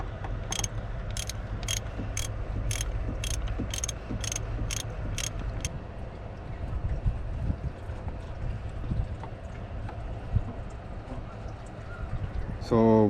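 Socket wrench on an impact socket loosening the oil drain plug of a Chevrolet Cruze 1.8L during an oil change, a fast run of about a dozen sharp ratchet clicks near the start, then quieter handling and faint background.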